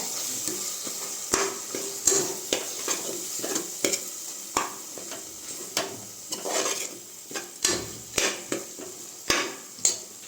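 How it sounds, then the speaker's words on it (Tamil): Spoon stirring masala frying in oil in a pan for coriander rice, with a steady sizzle under repeated scraping strokes and light utensil clinks against the pan, close and fairly quiet, with no voices. "நம்ம சேர்த்த மசாலா எல்லாம் நல்லா வெந்து வந்து எண்ணெய் பிரிஞ்சு வந்துருக்கு இதனால் மிக்ஸ் பண்ணி விட்டுக்கோங்க"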